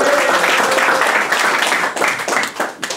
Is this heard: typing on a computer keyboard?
no